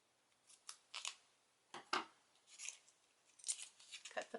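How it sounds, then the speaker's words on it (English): Scissors snip through the clear plastic packaging of a handmade Stampin' Up! Daisy Delight thank-you card, a series of sharp close cuts spaced irregularly, with quiet pauses between them. "Cut the plastic."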